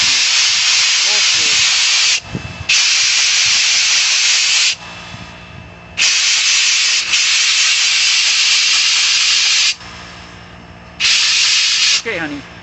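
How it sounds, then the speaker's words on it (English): A pancake air compressor, with newly tightened fittings, gives off loud, steady hissing in long bursts of about two to four seconds, separated by brief quieter gaps. "that pancake compressor's working pretty good after I tighten that stuff"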